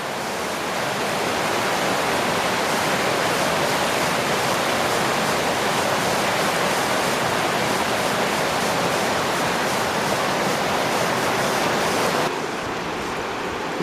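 River rapids in Opasquia Provincial Park, Ontario, rush as a loud, steady, broadband roar of churning water that fills the whole stretch without a break.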